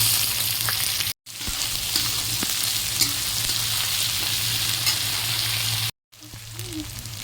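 Onions fry in a pan with a loud, continuous sizzle and crackle. It breaks off briefly twice, then starts again.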